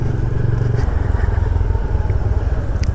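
A motorcycle engine runs steadily at close range, a rough low rumble with light rattling and clatter on top, and no voices.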